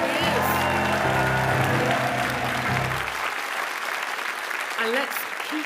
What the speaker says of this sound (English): let's keep that applause flowing nicely for our wonderful, dynamic, improvising cast for this evening